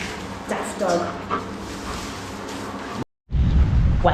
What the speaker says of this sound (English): Daft dog.